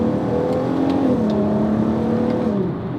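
A VW Golf MK5 R32 with a VR6 engine in sport mode pulls hard, its loud, steady engine roar stepping through quick gear changes for about three seconds with no voices.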